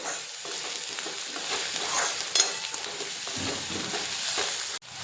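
Egg bhurji frying in a pan as turmeric is stirred in, a continuous close sizzle with scattered stirring scrapes and one sharp clatter near the end, no talking.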